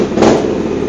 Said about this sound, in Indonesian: Untuk mesin, berhubung knalpotnya racing, coba kita nyalain, bismillah. Mesin juga sekali sentuh nyala.